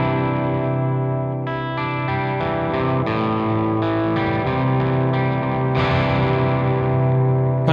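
Electric guitar played through an Archetype Rabea crunch amp with heavy reverb, sustained distorted chords ringing with a long reverb tail, steady and close, with no talking.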